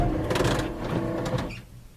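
The windshield wiper motor on a 1959 Ford F100 whirs and clicks as the wipers sweep to their park position, a close mechanical buzz with rhythmic ticks that stops abruptly near the end.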